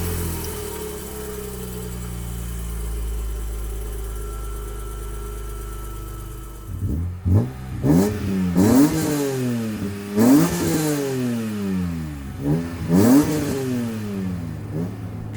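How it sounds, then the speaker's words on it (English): BMW S54 inline-six swapped into a purple 1993 E30 Touring, heard first idling smoothly, then blipped in about four sharp revs that climb and fall back, close up and loud with no talking. "Hearing the engine for the first time was indescribable."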